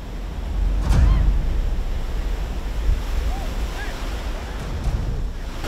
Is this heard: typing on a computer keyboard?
no